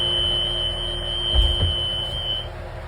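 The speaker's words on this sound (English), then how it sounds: "I'm going to open and shut it and make sure the alarm's working" The rear door alarm of a school bus sounds as the door is opened during a pre-trip inspection, a steady high electronic tone holding for a couple of seconds over low engine rumble and a few thumps, with no talk.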